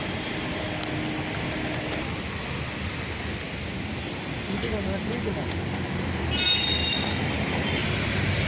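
A Delhi metro train runs with a steady broadband rumble throughout, its wheels letting out a brief high squeal near the end as the noise swells slightly.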